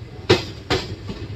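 A train pulls into Bagar Road station, its wheels giving two loud, sharp clacks over the rail joints about half a second apart, then a fainter third knock.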